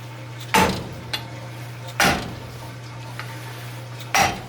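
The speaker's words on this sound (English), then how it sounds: "simply with a hammer strike the socket, and that's just going to free them up all the way down" Three sharp metallic hammer strikes on a socket over cylinder-head valve springs of a 4.7 stroker engine, spaced about a second and a half apart, with a faint hum between them and a couple of lighter taps.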